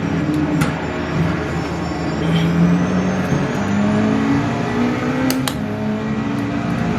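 A Porsche 963 LMDH race car in Automobilista 2 at Daytona drones loudly and continuously, its engine note climbing and shifting through gears with no voices present.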